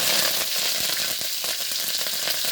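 Dried red chillies and curry leaves fry in hot coconut oil, giving a continuous crackling sizzle with a brief pop and spatter now and then, close and fairly loud, with no voices.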